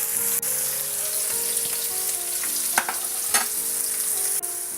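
Finely sliced onions frying with salt in a pan, a steady bright sizzle with a couple of soft stirring scrapes, close and even throughout.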